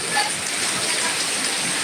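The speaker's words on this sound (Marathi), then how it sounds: "किती पाऊस चालू आहे बाप रे" Heavy rain pours steadily outdoors as a dense, even hiss of water that holds a constant loudness from start to finish, with no voices breaking through.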